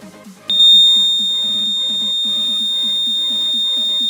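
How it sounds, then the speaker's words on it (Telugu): A homemade fire alarm's buzzer, set off by a heated filament, switches on abruptly and holds a loud, steady high-pitched electronic tone close by, with a faint rhythmic pulsing underneath. "ఎప్పుడైతే ఫైర్ అయితే దాన్ని తగులుతుందో కొన్ని సెకండ్స్లలో మనకి బజర్ అయితే వస్తుంది"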